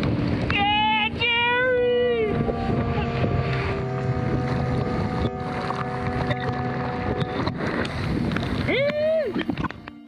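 Strong wind buffets the microphone out on Lake Superior during a kayaking trip, a constant loud rush with a few rising whistle-like tones cutting through.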